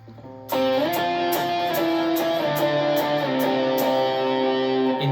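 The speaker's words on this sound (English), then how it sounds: "Now moving to a lead tone, this is going to be a lot of distortion." A heavily distorted electric guitar plays a sustained lead line, notes ringing out with thick saturated overdrive, loud and close, with no voices.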